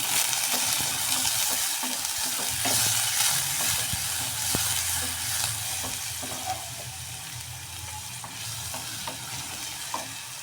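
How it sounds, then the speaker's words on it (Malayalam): Garlic, ginger, shallots and green chilli sizzle steadily in a pan for Kerala theeyal, with a spoon stirring and scraping through the frying at close range and no talking. "വെളുത്തുള്ളി ഇഞ്ചി വെളുത്തുള്ളി ചെറിയ ഉള്ളി പച്ചമുളക് അതെല്ലാം കൂടിയാണ് അതിപ്പോൾ ഇട്ടത് എന്നിട്ട് നമുക്കതൊന്ന് ഇളക്കാം"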